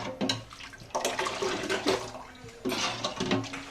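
Plenty of water is poured into a pot in a village-style home kitchen while dal is being cooked, heard as splashing, gurgling bursts in three runs with short breaks and no talking.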